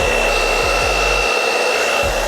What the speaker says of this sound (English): I like to take my blow dryer, medium heat, and just lightly like to work that beard product into the beard.